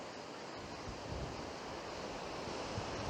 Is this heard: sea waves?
yes